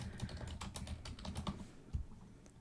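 Quick, light clicks of someone typing on a computer keyboard, a short close burst of keystrokes with a soft background.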